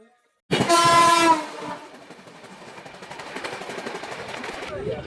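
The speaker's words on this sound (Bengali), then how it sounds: "আমাদের ট্রেন একদম অন টাইমেই যাচ্ছে ঢিকির ঢিকির করে করে অন টাইমে" A crowded passenger train bound for the Kumbh Mela running on its tracks: a loud horn blast opens, followed by a steady rolling rumble and rhythmic wheel clatter from inside the carriage.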